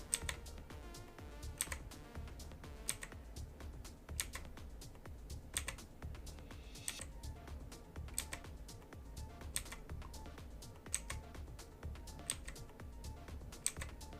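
Someone types steadily on a Havit RGB mechanical keyboard, sharp close key clicks falling in an uneven quick rhythm over a low background hum, with no talking.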